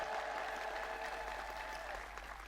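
A congregation at an Ethiopian Orthodox sermon claps steadily, a dense and sustained wash of applause that tapers slightly at the end.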